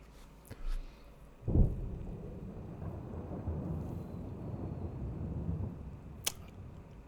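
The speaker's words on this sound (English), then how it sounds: "Ah, it wasn't an explosion. It was thunder." Thunder in the video game Darkwood rolls as a low, rumbling swell that builds after a sharp crack and sustains for several seconds, with a few faint clicks over it.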